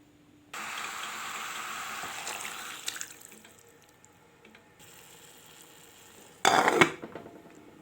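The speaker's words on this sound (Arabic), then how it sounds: "ودلوقتي هنسقي الشوربه بتاعتنا" Broth pours over stuffed onion mahshi packed in a pot, a steady close splashing stream that tapers to a gentle trickle, then a louder brief gush near the end.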